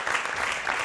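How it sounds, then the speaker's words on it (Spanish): A brief burst of studio audience applause on a television show, continuous and fairly loud, with no clear gaps between claps. "Fuerte el aplauso para ellos."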